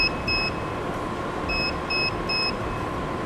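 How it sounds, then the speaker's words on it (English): A car jump starter power bank hooked to battery clamps gives short, high electronic beeps, one single beep and then a quick run of three, over a steady background hum. "this thing's making a beeping sound now, so it lets me know it's hooked up"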